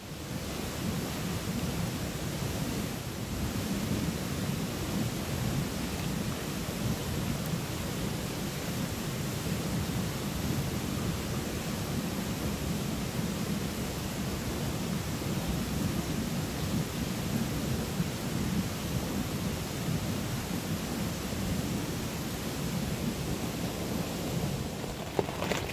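Heavy rain drums steadily on a tent in a wild forest during solo camping, a dense, continuous close roar with no pauses and no voices.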